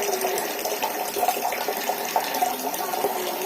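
Water runs steadily into a container at home at night, a continuous, fairly loud gushing rush that fills the whole stretch without pause.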